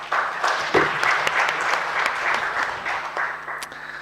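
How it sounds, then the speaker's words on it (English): Audience applause at the launch of a 2025 remittances household survey report. The clapping is steady, moderately loud and lasts several seconds, with scattered individual claps standing out above it. "I believe you should clap for this achievement."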